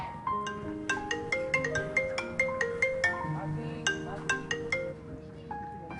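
A phone sounds a bright melodic ringtone while a call is placed to a friend named Aiman, a tinkling sequence of repeating chime-like notes that plays steadily and close throughout.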